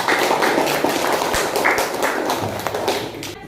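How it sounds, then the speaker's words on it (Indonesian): Free applause from a whole class of students, a thick, continuous spatter of overlapping hand claps that stays loud and fairly even before thinning at the end. "Oke, tepuk tangan aja semuanya."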